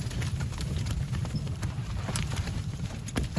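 A mare's hooves clip-clop at a steady walking pace on hard ground, fairly close, with a light wind rumble underneath.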